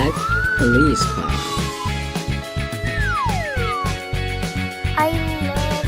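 A toy police car siren wails with rising and falling sweeps, loud and close, alongside a steady electronic beat and a few brief tonal chirps.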